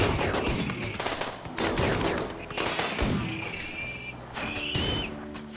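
Rapid bursts of automatic turret gunfire in RimWorld rattle and crackle in quick succession, loud and sharp, with brief high electronic tones between volleys.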